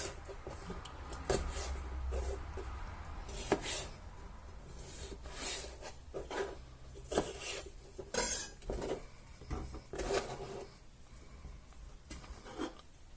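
A knife chops ingredients for a Spanish sausage dish in red wine and tomato sauce, giving scattered sharp taps and clatter of blade and utensils on a board, close and fairly quiet, with no talking.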